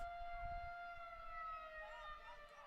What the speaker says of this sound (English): First Saturday of the month, folks. That's what the siren is.